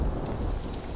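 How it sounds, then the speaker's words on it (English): A sudden thunderstorm brings heavy rain and a low rumble of thunder, a dense, loud wash of sound throughout with no voices. "A sudden thunderstorm broke upon him."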